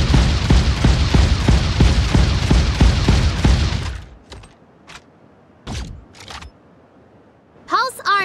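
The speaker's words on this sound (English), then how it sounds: "Energy particle gun." The energy particle gun in the video game Sausage Man fires a rapid, loud burst of about a dozen evenly spaced shots for four seconds, followed by a few sharp mechanical clicks and a short electronic chirp.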